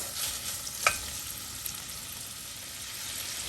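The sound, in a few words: smoked turkey sizzling in a pot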